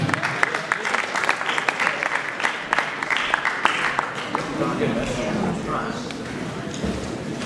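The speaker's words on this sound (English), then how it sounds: "Guys, make some noise for Madison." A poetry slam crowd claps and cheers steadily, a dense patter of applause that carries on throughout with voices mixed in.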